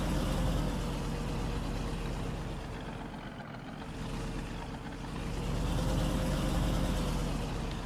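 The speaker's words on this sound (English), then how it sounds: "That's why I bought this truck. Well, one reason. I love the way it sounds." A truck engine in the farming game Farming Simulator 19 drones steadily with a low rumbling hum, rising and easing slightly in intensity, fairly quiet with no voices over it.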